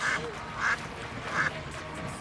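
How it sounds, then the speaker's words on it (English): Ducks quack three times in a slow, evenly spaced series over a soft outdoor background. "Look at the ducks!"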